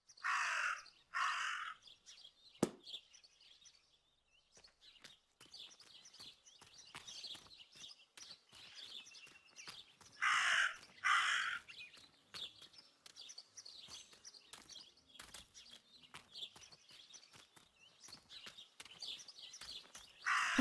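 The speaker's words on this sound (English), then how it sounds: "That raven is making a big fuss." A raven in the game Martha is Dead caws loudly several times in paired harsh calls against a quiet background of faint chirping birds, with a sharp click early on and no talking.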